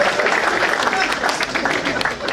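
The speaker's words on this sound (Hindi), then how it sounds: "तो जरा तालियां जोरदार बजा दीजिए।" Audience applause at an Independence Day function, a dense continuous wash of clapping that holds steady throughout, with some voices mixed in.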